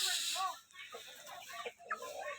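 Close, repeated clucking and soft murmuring from brooding chickens at a farm, with short broken calls coming one after another.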